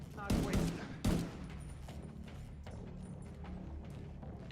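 Gunfire bursts from the video game The Division 2, with two loud sharp volleys near the start and faint scattered shots and clatter afterward.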